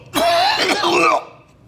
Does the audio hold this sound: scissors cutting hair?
no